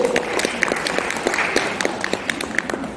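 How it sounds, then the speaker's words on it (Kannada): An audience applauds at the first literary conference in Sirsi, with dense, steady clapping that fills the hall throughout and a few sharper claps standing out. "ಅವರ ಒಂದು ಶ್ರಮಕ್ಕೆ ಒಂದು ಚಪ್ಪಾಳೆ ನಿಮ್ಮಿಂದ ಬರಲೇಬೇಕು"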